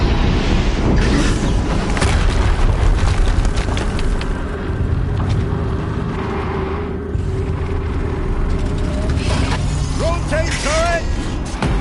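Rumbling explosion with mechanical clatter in the video game Horizon Zero Dawn, a loud sustained boom lasting several seconds with game effects layered over it.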